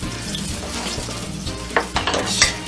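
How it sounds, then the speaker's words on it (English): Chicken frying in oil in a pan gives a steady crackling sizzle, joined by a few sharp clinks of utensils against cookware toward the end. "I can hear that thing sizzling"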